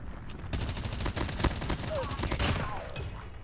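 Rapid bursts of gunfire in Call of Duty Mobile crackle in quick succession, with sharp little hitmarker ticks layered in, loud and close throughout.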